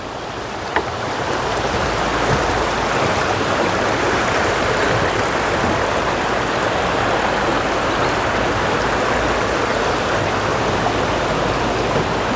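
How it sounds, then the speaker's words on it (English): A small waterfall spills into a flowing river beside the Appalachian Trail, making a dense, continuous rushing roar that stays steady and fills the whole stretch without any voices. "A little waterfall down there."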